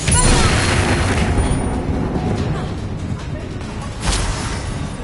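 Fire blast spell explosion from the Hogwarts Legacy video game, a heavy booming blast at the start fading into rumble, then another burst near the end, with a voice speaking over it.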